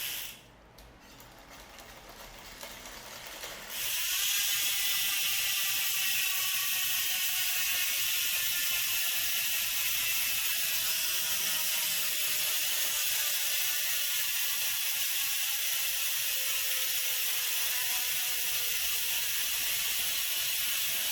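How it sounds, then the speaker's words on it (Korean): A Madison New Delta 10SE minivelo bicycle wheel with a tall rim spins freely after a few handling noises, its freewheel hub ratchet giving a loud, fast, continuous buzzing click that slowly winds down over the long coast. "여러분들 좋아하시는 라쳇 소리 들려드리면서 마무리하도록 할게요"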